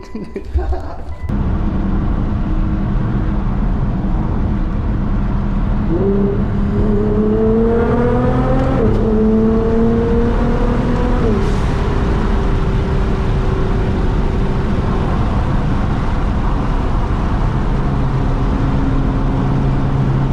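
A 2016 Nissan GT-R with a flame-throwing build drives past in a steady, loud engine drone, climbing in pitch as it revs through the gears and then settling into a cruise, with no gaps in the sound.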